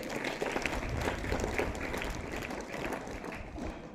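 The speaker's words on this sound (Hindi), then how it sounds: "इसके लिए और एक बार सभी जन तालियां बजाइए" A school audience at a Hindi Day celebration applauds a student speaker, a continuous wash of many hands clapping at moderate level, steady from start to finish.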